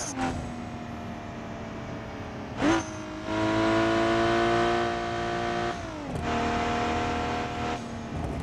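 A freshly built drag car in BeamNG.drive holds its engine on a two-step launch control, a loud buzzing steady drone with sharp pops and pitch dips as the revs cut and recover, with no talk.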